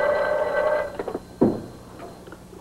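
A 1959-era telephone rings on the far end of a call, a steady tonal ring followed by a few clicks and a thump on the line, heard faintly through the receiver.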